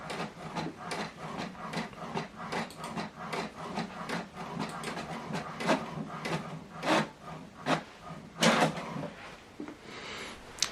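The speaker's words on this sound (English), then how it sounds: "the document we printed out is now printing" An Epson or HP office printer runs a document through in a steady stream of rhythmic mechanical rubbing, clicking and scraping, close and fairly loud, with a few louder knocks near the end.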